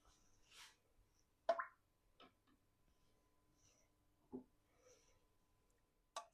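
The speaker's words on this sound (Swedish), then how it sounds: "Och sen så ställer vi bara ner burkarna." Glass canning jars set down one by one into a pot of water with a splash of vinegar, ready for pressure-canning beef stroganoff: a few soft, spaced knocks and plops in an otherwise quiet room.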